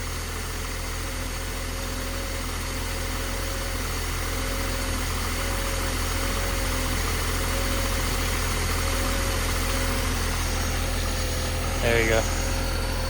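A 2.6 engine with 14k miles idling smoothly after a fuel accumulator fault was fixed, a steady low hum with faint vibration, close and continuous, with a brief clatter near the end.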